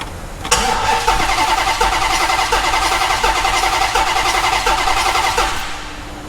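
A Hellcat-swapped 1968 Dodge Charger engine with its spark plugs pulled cranks on the starter during a compression test, giving a loud, steady rhythmic chugging whir that runs unbroken for about six seconds before it stops.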